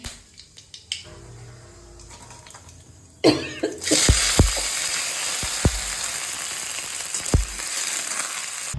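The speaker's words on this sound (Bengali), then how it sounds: "লঙ্কা কালো জিরে ফোড়ন দিলাম" Chili and black cumin seeds hit hot oil midway, bursting into a loud, steady sizzle with a few sharp pops and clatters, after a quieter stretch of faint kitchen clicks and a cough.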